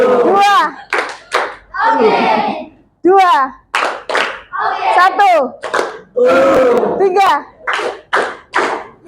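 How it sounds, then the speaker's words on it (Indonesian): Children clap in short rhythmic bursts between counting in a classroom activity, sharp hand claps alternating with a teacher's voice and kids speaking throughout. "tepuk tangan buat semuanya"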